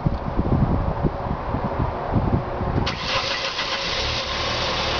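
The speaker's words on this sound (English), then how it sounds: "We're going to start the engine." A car engine started remotely via an Arduino-based cell phone system cranks with a rumbling, uneven churn, then catches at about three seconds and settles into a steady, close idle.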